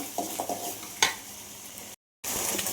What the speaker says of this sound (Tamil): இன்னும் கொஞ்சம் நேரம் வதக்கலாம்